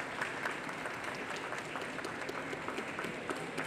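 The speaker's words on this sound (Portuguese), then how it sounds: "Queria pedir aplausos para eles numa plena sexta-feira" An audience at a business talk on a Friday applauding the presenters, a steady, moderately distant patter of many hands clapping without pause for a few seconds.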